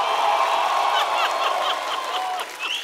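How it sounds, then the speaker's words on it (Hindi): A studio audience on The Kapil Sharma Show applauds guests with loud, sustained clapping, a thick continuous patter that fades slightly near the end. "जोरदार तालियों के साथ स्वागत कीजिए"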